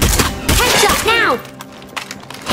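Gunfire in the zombie video game State of Decay 2: a loud, close fusillade of shots and thumps in the first second and a half, with a wavering voice-like cry mixed in, then quieter.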